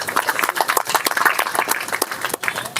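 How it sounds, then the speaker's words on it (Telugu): Audience at a memorial service applauding, dense irregular handclaps from many people, close and lively, with a brief dip near the end. "అందరికీ చప్పట్లు కొడదాం."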